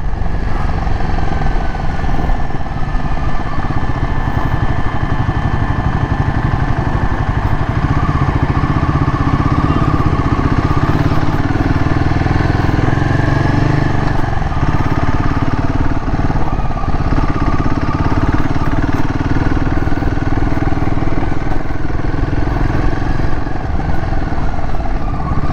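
Royal Enfield Himalayan 450 motorcycles return from test rides, with a loud, steady, continuous engine rumble and clatter of several bikes nearby.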